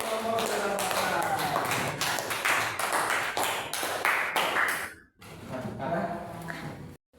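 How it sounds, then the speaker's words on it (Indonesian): A classroom applauds a student group named Samudra Pasai, dense hand clapping filling the first few seconds before it breaks off, then people talk. "Tepuk tangan buat kelompok Samudra Pasai."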